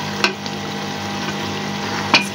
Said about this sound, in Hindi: देखिए हमारी भुनाई हो रही है और घी ऊपर आना शुरू हो गया है।